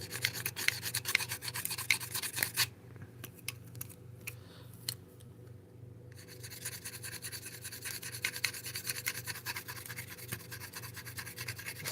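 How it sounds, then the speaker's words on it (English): A scraper drags repeatedly across the body of a headless bass guitar under repair, producing close, rasping strokes that stop briefly for a few seconds in the middle and then resume steadily. "The scraper's working way better than I intended, though."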